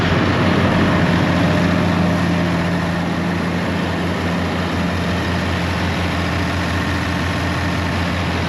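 An engine-driven Magnum water pump drones loudly and steadily nearby, a constant low mechanical hum with no pauses or voices.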